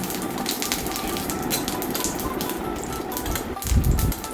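Dried lentil nuggets frying in hot oil in a pan on a gas stove, a steady dense crackling sizzle with a brief low thump near the end.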